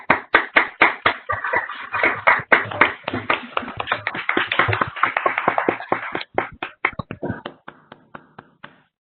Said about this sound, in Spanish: Y les damos un fuerte aplauso, por favor.